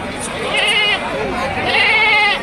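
Large goats and billy goats at a goat market, several bleats rising and wavering close by, heard alongside the busy murmur of people talking at the market.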